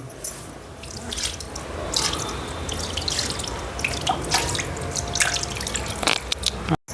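Water poured over an idol to rinse off curd and milk after an abhishek ritual, a steady splashing, dripping stream close by, continuous for several seconds with no speech.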